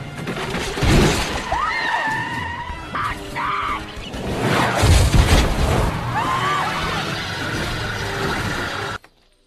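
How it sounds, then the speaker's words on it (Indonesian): A film scene in which a car's tire bursts and the car collides with an oncoming police van: a loud, dense crash with shattering glass and heavy impacts that roar on for several seconds before cutting off abruptly. "Tiba-tiba ban mobil yang dikendarai Cat pecah, dan di arah berlawanan sudah ada mobil van yang dikendarai polisi tersebut."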